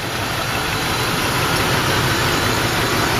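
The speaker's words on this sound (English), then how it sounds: "Oh, she's idling down." A steady engine hum drones evenly throughout, a close, constant idle with no talking, from the original engine of a 1986 Mercury Grand Marquis idling down.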